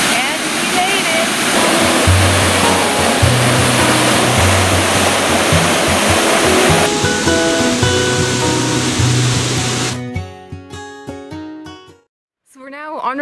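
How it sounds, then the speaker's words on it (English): Waterfall in South African wilderness, a dense continuous roar of falling water filling the scene for about ten seconds, close and loud, with a voice speaking over it before it cuts to other sounds. "it sounds like we made it to the waterfall"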